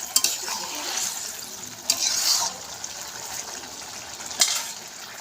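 Fish and snake gourd curry stirred in a pan, a few soft scraping strokes with brief sharper clinks against the metal, moderately quiet, with low background noise.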